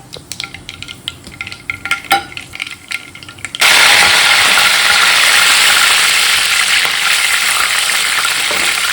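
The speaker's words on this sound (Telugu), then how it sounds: "ఆవాలు చిటపట్లాడుతున్నాయి కదా, ఇప్పుడు దీనిలో కరివేపాకు యాడ్ చేసుకుందాం." Mustard seeds crackle and curry leaves fry in hot oil for a garlic and amla pickle tempering. Faint clinks and pops are followed by a sudden loud, dense sizzle that stays steady to the end.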